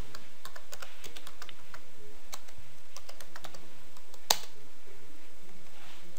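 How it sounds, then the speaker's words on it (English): Computer keyboard keys clicking steadily as a command is typed into a storage cluster shell to unlock a diag user account, quick light taps in an irregular rhythm with one sharper keystroke, close and alone without talk. "Type the command set diag from the cluster shell."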